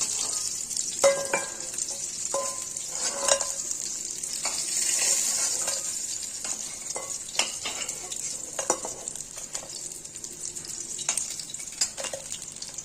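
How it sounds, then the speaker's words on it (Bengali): Catla fish pieces sizzling in hot oil in a wok, punctuated by repeated clinks and scrapes of a utensil against the pan, close and steady with no talking. "সমস্ত মাছগুলো দিয়ে দিলাম কড়াইতে মাছগুলো সুন্দর করে ভাজা হয়ে গেছে"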